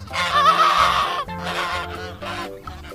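A goose honks loudly and close by in several long, drawn-out calls with brief breaks between them, and no talking over it.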